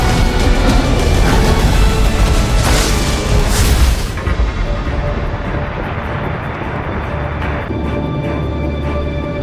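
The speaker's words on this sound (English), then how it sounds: "we have a game filled with huge explosions, chaos, and some over-the-top action. Just Cause 3." Huge booming explosions from the video game Just Cause 3, a loud dense roar of blasts and rumble with aircraft-like drone, sharp bursts in the first four seconds then a sustained heavy rumble.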